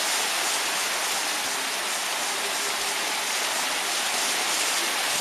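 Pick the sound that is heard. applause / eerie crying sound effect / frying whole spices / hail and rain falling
hail and rain falling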